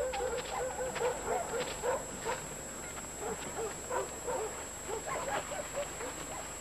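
A sled dog whimpers and gives short yips and barks in a repeated, uneven rhythm, fairly faint against a steady background hum.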